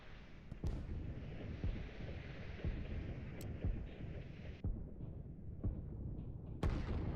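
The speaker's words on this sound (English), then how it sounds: "this little unit down here is getting struck by some artillery that's obviously out of sight" Distant, out-of-sight artillery strikes in a line-war strategy game, a steady rumbling barrage with sharp individual blasts breaking through every second or so, fairly loud and continuous with no talking.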